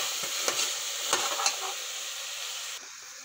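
Tomatoes sizzle and fry in a pan while being stirred for a homestyle dried-pea haldi, a steady close hiss with a few soft scraping knocks of the spoon, cutting slightly quieter near the end.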